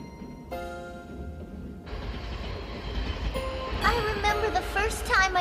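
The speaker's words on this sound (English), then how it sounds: "I like taking this big train, Mummy." A train rolls along with a rumbling, rattling ride, squeals and clatter building toward the end, while a voice is heard over it.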